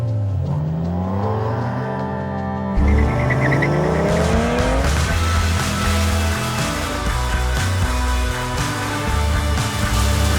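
A Ferrari fitted with a new exhaust drives fast, its engine climbing through sharp, loud revving sweeps with gear changes and brief tyre squeal, the roar up close and continuous with no talk.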